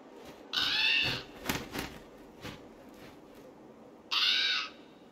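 A raven in Assassin's Creed Valhalla gives two loud, harsh caws a few seconds apart, with faint clicks and rustling in between.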